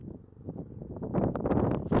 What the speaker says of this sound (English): Yeah, it's probably windy.